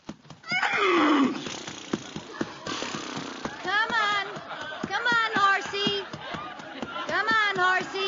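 A horse whinny sound effect in a classic holiday radio comedy rings out early and loud, followed by a jingling clip-clop rhythm while actors speak over it.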